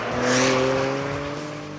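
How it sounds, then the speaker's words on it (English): An SUV driven hard through a cone course, engine roaring and tires squealing in a loud, sustained sweep close by, with no voices. "And it handles for an SUV really more like a sports car."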